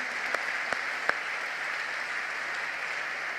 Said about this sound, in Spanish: Un aplauso grandote ahí al Señor